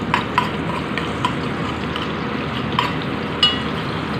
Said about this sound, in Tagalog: Lagyan natin ng garlic.